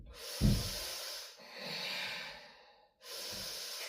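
During a vinyasa yoga class, someone holds a plank and breathes deeply in and out through the nose, audible and close. There is a sharp snort-like intake, then long, hissing exhales and inhales in a slow rhythm.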